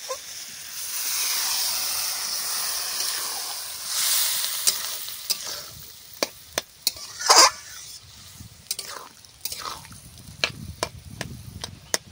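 Hot jackfruit and prawn curry sizzles and hisses loudly in a frying pan as water is poured in, the frying noise easing over the first seconds and followed by scattered clicks and scrapes of a spoon stirring the pan.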